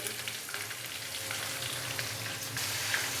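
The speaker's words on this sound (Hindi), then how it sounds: "प्याज को हम लाइट ब्राउन होने तक फ्राई कर लेंगे।" Chopped onions hiss and crackle in hot oil, frying for a beef and potato pulao; a continuous, even sizzle without talk and a few faint clicks near the end.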